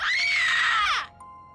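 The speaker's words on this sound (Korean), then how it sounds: "딸의 방에서 들려오는 친구의 비명 소리를 들어요" A girl's high, piercing scream sound effect rising and then sliding down over about a second before cutting off, loud and close, alone without talk.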